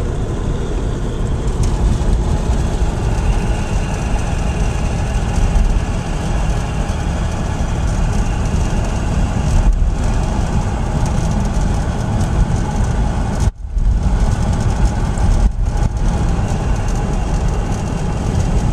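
Inside a 1966 Cadillac Fleetwood Brougham on a road drive, a loud, continuous low engine and road rumble fills the cabin without a break, with one brief dip near the end.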